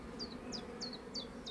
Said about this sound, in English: So we've got a whole bunch of bees in